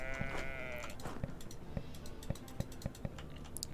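A sheep bleats once, briefly and faintly, in the House Builder video game, followed by soft, scattered clicking like keys being pressed.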